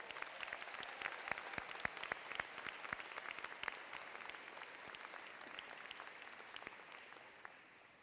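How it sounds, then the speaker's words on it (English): Audience applause at a college honors convocation ceremony, a steady wash of many hands clapping that fills the hall and slowly tapers toward the end. "Let's give them a round of applause"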